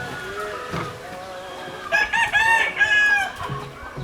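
Young Bulldozer hatch gamefowl cockerels crow in several overlapping bursts, with softer clucking between calls, fairly near and loud.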